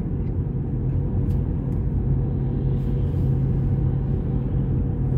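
A car's engine rumbles steadily from inside the cabin while it drives in traffic, a constant low drone that holds even throughout with no clear rise in pitch.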